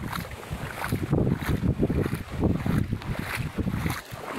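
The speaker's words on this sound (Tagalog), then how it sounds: "Umuulan at malakas ang hangin." Gusty wind roaring and buffeting, loud and close with surging bursts, with rain mixed into the rushing noise out at a farm field.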